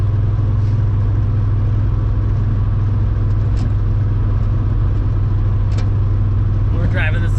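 A VR5 Savoy on the road, its engine a steady low rumble with constant road and cabin noise throughout, a couple of faint knocks over bumps, and no pause in the drone.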